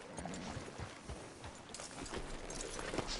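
Horse hooves clip-clop in Red Dead Redemption 2, arriving outside a sheriff's office: a steady run of close, repeated hoof strikes over a dense, noisy game soundscape, with no talk.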